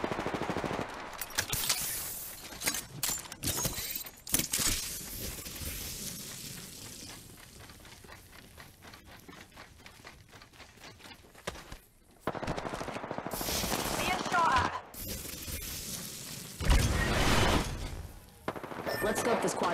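Rapid automatic gunfire from Apex Legends shooter gameplay rattles in dense bursts, broken by sharp louder shots and impacts, with game voice lines and effects mixed in.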